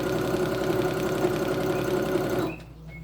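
A sewing machine runs steadily for about two and a half seconds, stitching a foundation-pieced quilt seam with a close, even mechanical whir, then stops abruptly, leaving a quiet room.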